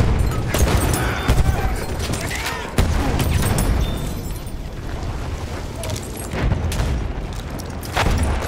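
Dynamite blast in Battlefield 1 within a dense battlefield mix: heavy booms and continuous rumbling gunfire, with a sharp loud burst near the middle, all loud and close, with voices calling out under the din.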